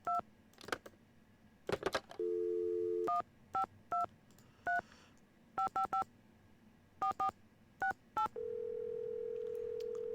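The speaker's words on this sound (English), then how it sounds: "It's just fun dialing on a keypad" Telephone keypad tones beep in the Nancy Drew game Secret of the Scarlet Hand, short electronic presses in irregular bursts of one to four, with two longer steady dial tones sounding in between; no speech.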